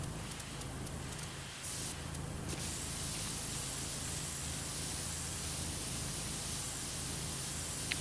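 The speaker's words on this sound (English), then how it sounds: "And we'll just keep spraying things the way we currently are." A pressure washer sprays steadily in PowerWash Simulator 2 while cleaning a dump truck, a constant loud hiss of water with no pauses, heard alone without talk.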